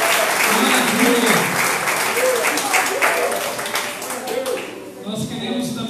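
A Portuguese-speaking church congregation applauds, a dense burst of clapping that slowly thins out while voices talk over it in Portuguese.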